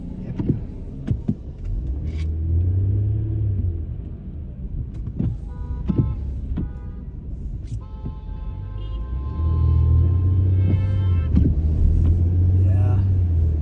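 A car moving along the road on a rainy day, heard from inside as a steady low rumble with tire and engine noise and a few clicks and chimes, while people talk over it.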